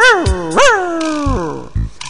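A human voice imitates a small dog barking, giving a few high, sliding yips and whining barks in quick succession, close and loud, set against a simple rhythmic backing.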